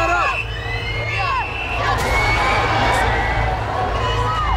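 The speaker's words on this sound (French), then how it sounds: "La rue est déchaînée, la foule nerveuse." An agitated, nervous crowd fills a street on the edge of rioting: loud shouts, whistles and cheering rise over a steady hubbub of voices, with traffic rumbling underneath.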